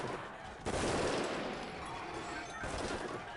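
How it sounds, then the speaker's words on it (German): Rapid gunfire erupts during a prison riot in the video game Prison Architect, a dense, quiet clatter of overlapping shots starting abruptly and continuing as a sustained fusillade. "Die schießen auch jetzt."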